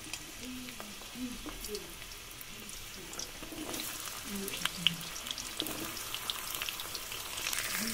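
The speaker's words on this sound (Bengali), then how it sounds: "আমি সবজিগুলো একটা একটা করে সব ভেজে নেব।" Mixed vegetables frying in white oil in a hot kadai, a steady low sizzle running under a voice talking throughout, with occasional clinks of stirring.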